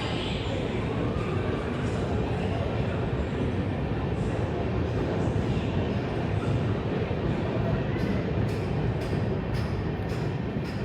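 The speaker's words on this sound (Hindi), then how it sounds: "5 मिनट के ऑफिशियल हॉल्ट के बाद हमारा कटक रेलवे स्टेशन से डिपार्चर हो रहा है" Durg Puri Intercity train pulling out of Cuttack railway station, a steady low rumble and rolling rail noise filling the whole stretch, constant and close with no clear pauses.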